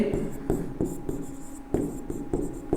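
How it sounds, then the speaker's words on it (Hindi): Chalk or marker strokes on a classroom board during a physics lecture on refraction, with regular taps and scratching in short bursts; a speaker's voice runs underneath. "तो यहां पर लिख देते हैं स्नेल के नियम से"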